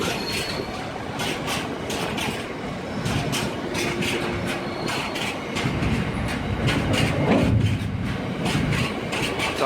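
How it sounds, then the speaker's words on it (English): A freight train of scrap wagons rolls past steadily, with rhythmic clanking of wheels over rail joints and occasional metallic squeal, continuous and fairly close. "And it's on a scrap wagon train."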